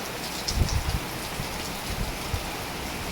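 Rain falls steadily in a village area during a night thunderstorm, a constant broadband wash with clusters of louder close drops spattering early on, no voices.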